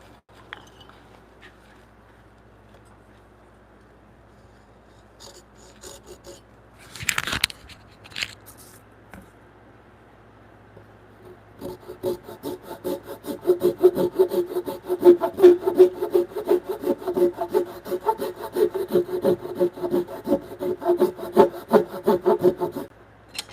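A hand saw rasps through wood in a woodshop, cutting down to a marked stop line on the layout face: a steady run of rhythmic back-and-forth strokes, close and fairly loud after a quieter stretch with a brief clunk.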